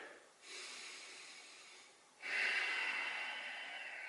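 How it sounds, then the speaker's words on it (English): Two long, deep breaths, a slow inhale followed by a stronger exhale, are drawn close to the microphone during a leg stretch in a quiet room. "One deep breath here."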